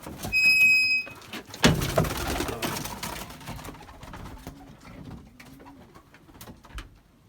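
Pigeons coo softly in repeated low, rolling calls, with a brief clatter and faint background noise.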